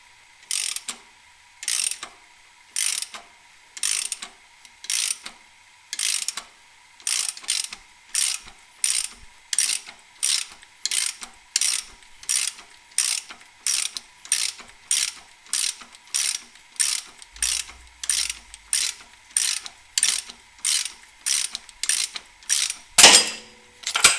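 A 1/4 inch ratchet clicks through roughly thirty evenly spaced bursts while loosening a fastener on a 3800 3.8 V6 engine, crisp and close, ending with a louder clunk.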